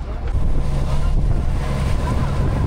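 Strong wind roars across the microphone on a boat at sea during a storm in a strait, a loud continuous rumble with waves washing underneath.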